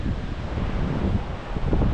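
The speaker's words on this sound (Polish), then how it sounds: "Pogoda jak widać wietrzna" Strong wind roars and buffets against the microphone outdoors on a winter mountain hike in the Beskid Wyspowy, a loud continuous rumbling gust with no speech.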